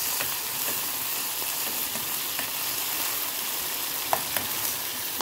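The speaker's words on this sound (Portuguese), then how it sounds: "Nosso peixinho tá ali, fritando," Steady crackling sizzle of tambaqui fish frying in a pan, with scattered pops and spatters throughout.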